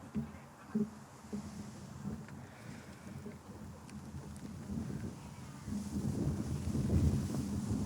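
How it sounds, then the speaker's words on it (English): Wind buffeting a microphone outdoors at a ribbon-cutting ceremony, a steady low rumble with irregular gusts that grow stronger and louder toward the end, with no speech over it. "Oh yeah, it's really windy today."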